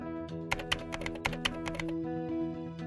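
Someone types a one-time passcode on a computer keyboard: a quick run of crisp, close key taps over a soft background hum, then a pause.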